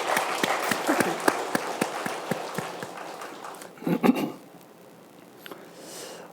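A church congregation at a Saturday early-morning special service claps, distinct individual claps coming through fairly close before thinning out, with a brief louder rustle near the middle and quieter room tone at the end.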